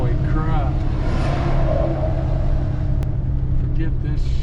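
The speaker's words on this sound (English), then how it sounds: "we got semi after semi after semi coming and going." Heavy semi trucks rumble past on a narrow canyon road under construction, a steady loud roar of engines and tires close by, with a person talking over the traffic noise.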